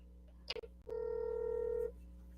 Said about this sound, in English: Let me make a phone call to a police officer that I know